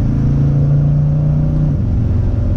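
A car engine idles with a loud, close rumble and an uneven, sputtering pulse, suggesting a possible exhaust leak; a steady tone fades near the end.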